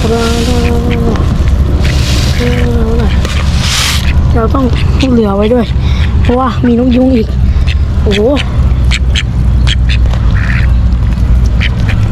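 Ducks quack loudly and repeatedly at close range at a feeding spot in the Huai Pong correctional institution grounds in Rayong, Thailand, a busy overlapping chorus of nasal calls, with people talking alongside.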